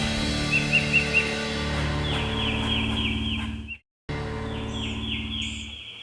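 Several wild turkeys gobble in rapid rattling bursts during a Mississippi spring hunt, heard at a moderate distance over a steady hum, with gobbles overlapping and repeating after a brief dropout.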